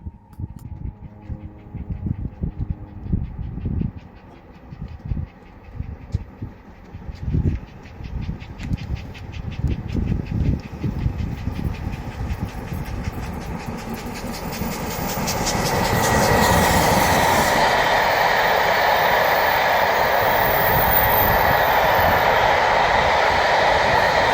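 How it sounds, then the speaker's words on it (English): Steam locomotive Nunney Castle hauls an excursion train toward Kingsway, a heavy rhythmic chuffing and rail clatter that swells into a loud close roar as it passes. "Nanny Castle on another train to Kingsway"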